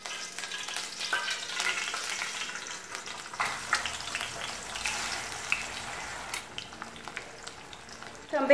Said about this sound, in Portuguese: Então agora eu vou fritar o ovo